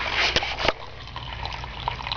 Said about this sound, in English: There is a built-in waterfall.